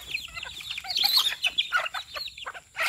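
Several chickens cluck and squawk busily together while being fed, a dense overlapping chatter of fowl calls at close range with no talking.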